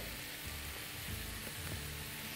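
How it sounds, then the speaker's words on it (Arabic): Onions fry in a pan while Aleppo-style kibbeh is being made. A continuous close sizzle with faint crackles runs through the whole stretch and no one speaks. "خلي هسه نبدي نسوي البصل"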